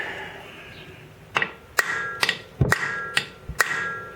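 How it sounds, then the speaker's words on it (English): Sharp metallic hammer taps on a Suzuki DR650 engine part, about eight of them at an irregular pace, ringing briefly against metal at close range with no talking. "when you're doing small hits like this, use a fairly substantial hammer"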